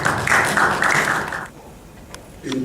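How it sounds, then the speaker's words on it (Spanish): Applause from an audience welcoming a lecturer, a burst of many hands clapping that rolls for about a second and a half, then drops to quiet with a few faint taps. "Aquí recibimos con un fuerte aplauso."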